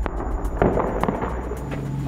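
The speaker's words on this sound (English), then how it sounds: "By night, the sky over Baghouz is lit up by explosions." Explosions crack and thud in rapid succession during a night bombardment of Baghouz, a cluster of sharp distant blasts over a low rumble, with no talk.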